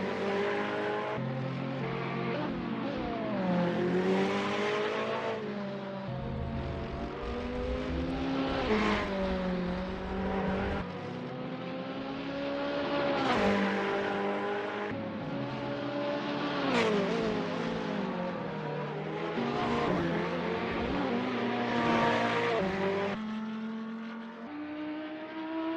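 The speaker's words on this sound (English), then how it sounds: "Tater is P5 driving a Ferrari 488 GT3" Ferrari 488 GT3 race car in a racing video game at Lime Rock, engine revving loud and steady through repeated rising and falling gear sweeps, with no talk.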